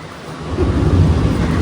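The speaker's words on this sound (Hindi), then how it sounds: "आप देख सकते हो बादल कड़क रहे हैं, काफ़ी तेज़ बारिश और हवा चल रही है" Thunder rumbles low and close through heavy rain and gusting wind, a brief swelling roar with no voices.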